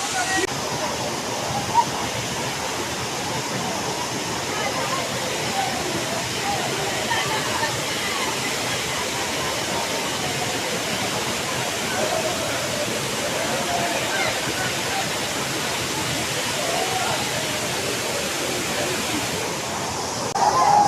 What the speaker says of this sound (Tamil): இப்போ செம ஸ்பீடாக விழுகுது தண்ணி